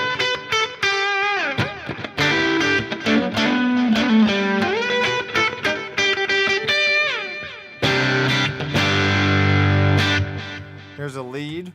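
Distorted electric guitar from a Headrush gig board, a busy run of gritty notes and bends with brief gaps, loud and up front, ending on a sustained chord before cutting off.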